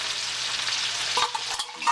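Drained canned mushrooms are stirred in a hot frying pan, with a bright continuous sizzle and a few quick scraping strokes near the end, close and with no voice.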